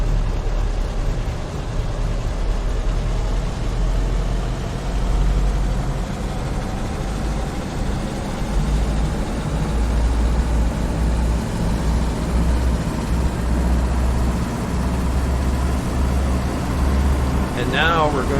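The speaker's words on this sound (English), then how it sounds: "So we're going to run our throttle up to 2000 RPMs." A Schweizer S300CBi helicopter piston engine runs steadily during ground checks as the throttle is eased up toward 2000 RPM, a loud, constant low drone and rumble with a brief chirp near the end.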